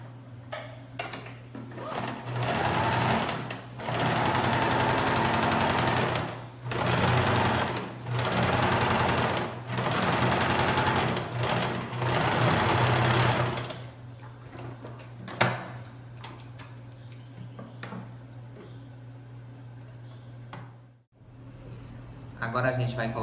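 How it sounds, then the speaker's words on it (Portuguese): A sewing machine stitches felt in repeated runs of steady whirring, loud and close, broken by short pauses, with a constant hum underneath and light handling noises near the end. "tem que deixar o espaço para fazer a costura na máquina e vamos costurar"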